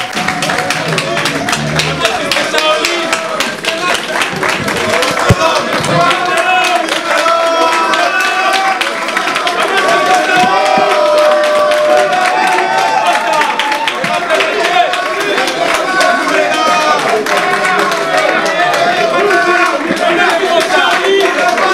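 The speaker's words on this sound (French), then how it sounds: "Sous vos applaudissements, s'il vous plaît." Audience applause fills a hall at the closing of a Congolese political diaspora summer-university gathering in Paris, sustained and loud for over twenty seconds, with crowd voices and cheering mixed throughout.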